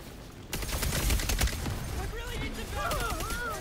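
Rapid bursts of gunfire in the hero shooter Concord, a dense fusillade of shots in the first half followed by game effects and a voice talking over quieter action.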